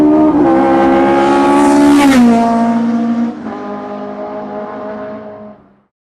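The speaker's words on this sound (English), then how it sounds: "if the engine is too loud and you can't hear me over the top of the engine" A race car engine in the Automobilista sim racing game at Spa, loud and close, revving up through a rising whine, dropping sharply on a gear change, then holding and fading out.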